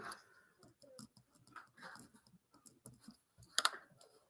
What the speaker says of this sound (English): now I'm going to go and type in that Pythagorean theorem